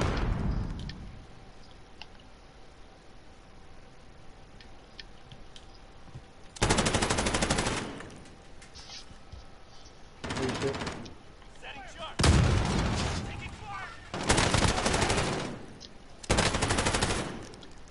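Gunfire from Call of Duty Warzone: a quiet stretch, then five loud, close bursts of automatic fire, each lasting about a second, separated by short pauses, with some talking in the background.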